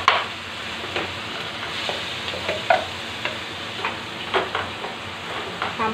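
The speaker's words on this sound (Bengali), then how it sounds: "চালগুলো একটু নাড়িয়ে নেব এই ঘির ভিতর দিয়ে।" Rice stirred in hot ghee in a pan for kheer, a soft continuous sizzle with repeated scraping strokes of the spoon at an uneven rhythm, close and moderately loud, no voices.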